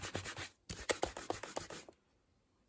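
Rubber stamp being scrubbed on a Stampin' Scrub pad to clear ink, a rapid series of close, brisk rubbing strokes that stop short, leaving quiet.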